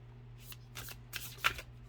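Oracle cards being shuffled by hand, several quick riffling bursts close up, ending with a soft snap.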